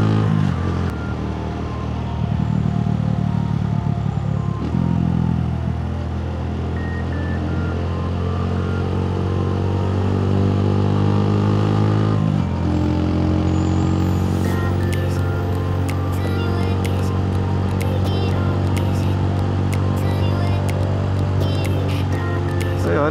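Motorcycle on a night ride, its engine droning steadily and rising and falling through gear changes, loud and close, with some wind buffeting later on.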